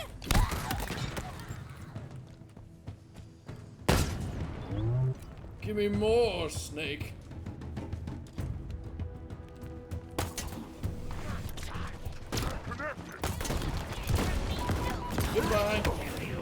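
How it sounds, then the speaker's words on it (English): Explosions and rapid gunfire erupt during a Halo Infinite boss fight, with sharp bursts and a steady battle clatter. A player talks over the action and a game voice speaks. "Oh, that's a lot of explosions."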